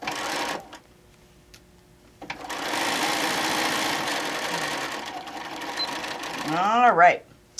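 A home sewing machine stitches a quarter-inch seam in fabric for a camper-print machine cover. It runs in one steady, buzzing burst of about four seconds, with brief quiet stretches before and a short voice at the end.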